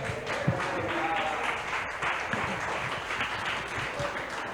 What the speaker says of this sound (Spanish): bien fuerte ese aplauso al Señor